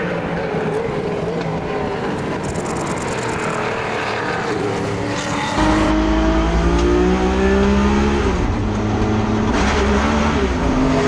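Touring cars race past on a wet Queensland Raceway, engines droning steadily with a louder, lower roar swelling midway as the field passes close, over continuous tyre and spray noise.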